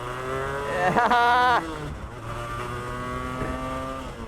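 Buzzing 250cc two-stroke V-twin sportbike engine revs sharply up and drops back, then idles with a raspy whine, close and loud, with a brief spoken word.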